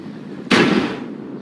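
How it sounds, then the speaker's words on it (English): A single loud mortar shot fires in the strategy game Forts, a sharp close blast that trails off into a short rumbling hiss over steady background game noise. "More smoky mortars."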